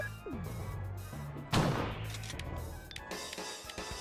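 A single loud shotgun blast in the Resident Evil video game, a sharp close report with a short decaying tail over ambient game music and effects.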